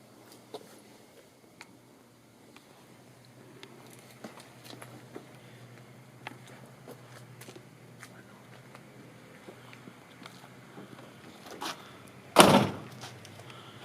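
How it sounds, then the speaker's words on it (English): A 1976 Pontiac Firebird door shuts once near the end with a single solid, close thunk, after a stretch of quiet low hum and faint small clicks. "your doors close nice. You don't have to slam the door"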